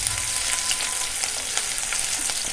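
Ginger and green chili fry in a pan with a steady, bright sizzle and crackle, close and even throughout, with a few faint taps and no talking.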